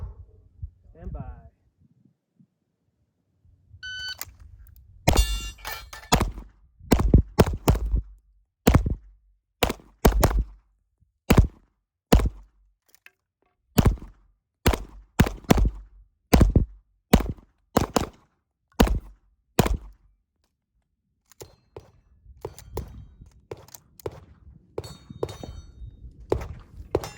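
Pistol fire at steel swinger targets during USPSA/IPSC practice: a long, rhythmic string of about fifteen loud, close shots with sharp metallic hits, framed by quieter handling noise before and after.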